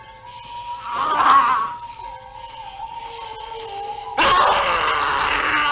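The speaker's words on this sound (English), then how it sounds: "Oh, did I tell you there's a lot of screaming?" Screams from an independent horror film trailer, one wailing scream rising and fading early on, then a second louder, harsh scream bursting in near the end over an eerie sustained tone.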